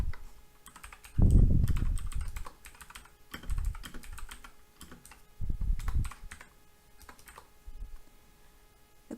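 Code being typed on a computer keyboard, with quick close key clicks coming in bursts, some louder thumps, and short pauses between runs.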